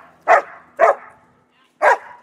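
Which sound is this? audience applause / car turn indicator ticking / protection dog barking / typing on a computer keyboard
protection dog barking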